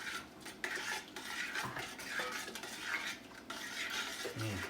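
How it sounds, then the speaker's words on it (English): Shrimp creole with Worcestershire gets a quick stir, a utensil scraping and clinking against the pot in short strokes over a faint simmer, moderately close and without talk. "I'm going to give it a quick stir."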